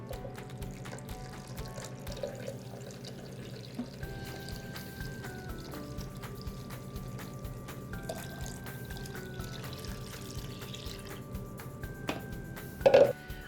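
About 3.5 cups of water pour onto rinsed oats in a high-speed Vitamix blender, a steady, even stream running throughout, ending with a brief clunk.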